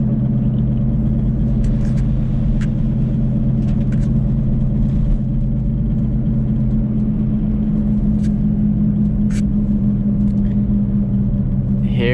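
A 2008 Toyota Prius driving through a residential area, heard from inside as a continuous low road rumble and hum at steady volume, with a few faint ticks and clicks on top.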